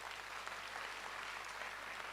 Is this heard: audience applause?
yes